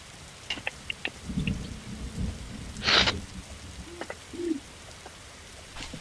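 Rain and rolling thunder in the video game 99 Nights in the Forest, a steady wash of rainfall with a loud thunder crack near the middle and scattered brief clicks, heard without talk.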